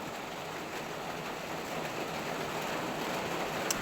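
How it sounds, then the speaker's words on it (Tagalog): Steady, dense rainfall hisses evenly throughout, a continuous broadband wash with no pauses and no voices. "Yan ang lakas ng ulan, guys, oh. Lakas ng ulan sa labas."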